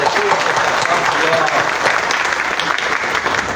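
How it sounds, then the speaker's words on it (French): Sustained applause from a crowd, dense and steady clapping throughout, fairly close and loud. "je vous prie d'applaudir"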